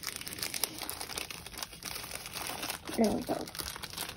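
Small plastic storage bags with a white write-on strip crinkle softly while being handled, brief rustles running throughout with a louder crunch near the end, under a person speaking.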